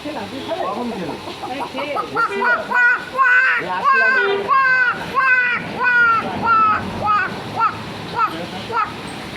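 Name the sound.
voice imitating waterhen call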